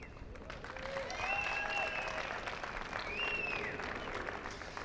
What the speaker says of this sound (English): we want to give everybody a huge round of applause and a big thank you